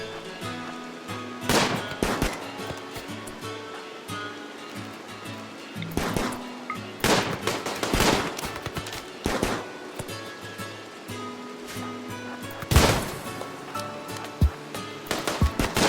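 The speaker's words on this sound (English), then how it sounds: "They take cover behind some rocks and trees and keep firing at the raiders." Gunfire during a RimWorld video game battle as colonists shoot at raiders from cover behind rocks and trees, with sharp bursts of shots arriving in clusters over a steady background of game sound.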